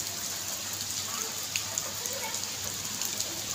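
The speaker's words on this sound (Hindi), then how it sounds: "देखो हमारे यहाँ कितनी तेज बारिश हो रही है।" Heavy rain pours down steadily outdoors, a dense, even hiss of drops on surfaces with scattered louder splats, at a fairly low level and with no voices.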